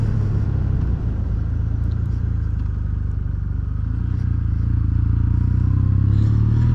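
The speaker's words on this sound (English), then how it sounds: "So what I'm riding is a 2025 Kawasaki W800." A 2025 Kawasaki W800 motorcycle being ridden, its engine a steady, close, low drone mixed with continuous road and wind rumble throughout, with no talking.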